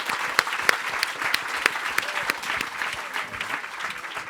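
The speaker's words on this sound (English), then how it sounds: "a big round of applause to them" An audience claps steadily for sponsors at a cultural talk event, with dense, sustained hand-clapping and a few sharper individual claps standing out throughout.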